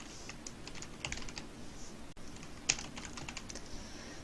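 Computer keyboard typing as text is entered into PowerPoint shapes, with close, light key clicks in quick irregular bursts and a brief pause midway.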